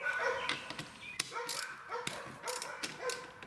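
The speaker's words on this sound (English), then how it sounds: "Got some really bark happy dogs in the neighborhood." Neighborhood dogs barking at a distance, several short yaps and woofs in uneven bursts, faint and somewhat muffled against quiet background noise.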